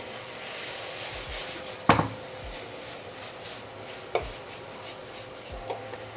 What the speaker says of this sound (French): Et on vient nettoyer notre poêle.